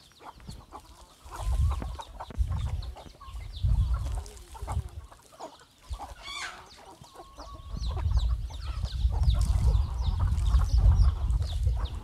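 Young chickens cluck and chatter around a Thai rural homestead, soft repeated clucks and scattered calls over low rumbling handling noise, with other birds faint in the background.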